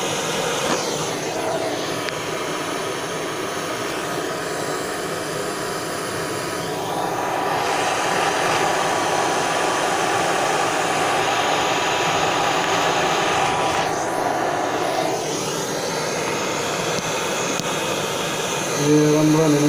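A blowtorch running low on gas melts salvaged lead roofing, its flame roaring steadily and loudly for the whole stretch, a constant rushing hiss that swells slightly midway, with brief faint sounds near the end.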